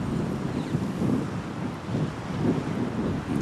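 Steady, blustery wind buffets the microphone with a low rumbling roar that swells in gentle surges throughout.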